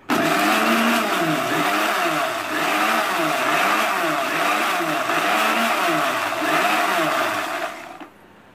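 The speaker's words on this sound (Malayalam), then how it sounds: "ഇനി ഇത് അടച്ചു വെച്ച് നേരത്തെ പോലെ തന്നെ നമുക്കിത് അടിച്ചെടുക്കണം" A blender whips half a cup of oil into mayonnaise with a loud, steady whirring drone that holds for about eight seconds, then cuts off abruptly.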